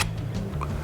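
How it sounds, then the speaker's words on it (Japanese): A Pentax K-3 Mark III DSLR fires in continuous burst mode, giving a short run of quick, crisp mechanical shutter clicks in close succession, recorded up close. "これ連写の音なんですけど"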